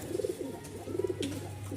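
Pigeons coo close by in soft, repeated rolling phrases, two bursts of throaty cooing with a low hum underneath and no talking.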